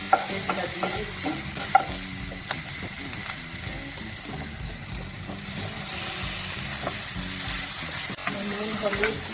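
Chana dal paste fries and is stirred in a pan with ginger and green chilli, a continuous soft sizzle under repeated scraping of a spatula, with a couple of sharp clinks early on, no speech.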